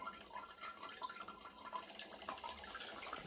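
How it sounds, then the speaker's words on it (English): Water dribbles and trickles from a leaking Brondell Fresh Spa bidet nozzle, a faint, close, irregular patter of small drips and splashes without any talking. "that gets it to about that much water dribbling out"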